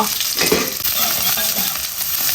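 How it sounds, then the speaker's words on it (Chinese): Chopped scallions sizzling in hot oil in a wok: a loud, steady, crackling hiss that fills the whole moment, with faint clinks from stirring. "锅中再次加油，葱花爆个香"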